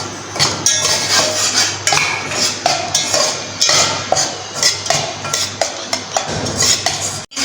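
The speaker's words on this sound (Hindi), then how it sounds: "अब हमने जो है वो सूजी इसके अंदर ऐड कर देनी है और इसको अच्छे से भून लेना है" Semolina is roasted for pumpkin halwa while a spoon stirs and scrapes against a metal pan, making a steady, close run of repeated clinks and scrapes.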